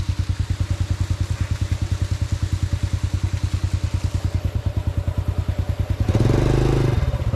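A motorcycle on a sandy road in Bulacan, Philippines, pulses in a steady, rapid thumping idle rhythm close by, then revs up louder near the end as it pulls away.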